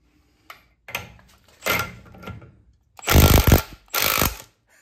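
Milwaukee impact wrench trying to break a stuck bolt free, short hammering bursts of rattling impacts, the last two loud and close, separated by brief pauses.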